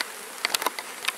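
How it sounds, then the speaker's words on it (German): Honeybees buzz close by as they walk in at the front of a hive box, a run of brief, uneven buzzing bursts with no talking. "lasse die Bienen ganz einfach vorne reinlaufen"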